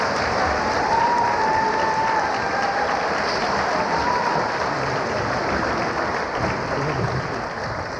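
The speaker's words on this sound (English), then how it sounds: "Let's give them one big round of applause." Sustained applause from a crowd at an 8th grade promotion ceremony for four students, dense steady clapping filling the room, with a few faint voices mixed in.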